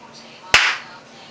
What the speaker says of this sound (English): So let's start with another clap.